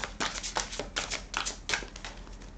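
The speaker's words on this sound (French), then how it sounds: "Alors, on va tirer quelques cartes" Oracle cards are shuffled and drawn for a reading, giving quick irregular riffling flicks and soft slaps of card stock, close and fairly quiet with no talking.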